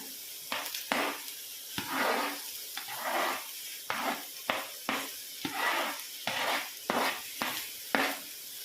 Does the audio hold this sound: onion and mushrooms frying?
yes